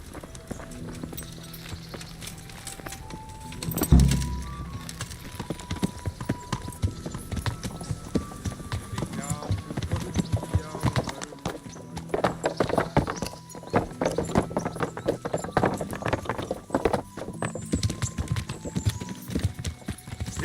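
Horse hooves in Kingdom Come: Deliverance clip-clopping in a steady trotting rhythm, fairly close, with a brief thump near the start and a faint whinny.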